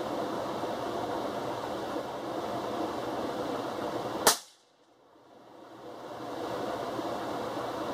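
A single sharp rifle shot from a Ruger Ranch 5.56 fired at a target outdoors, a loud crack cutting through steady background hum, followed by a sudden drop into quiet that slowly recovers.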